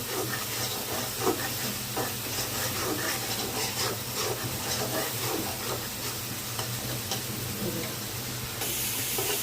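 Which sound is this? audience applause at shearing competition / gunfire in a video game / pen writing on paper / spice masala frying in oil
spice masala frying in oil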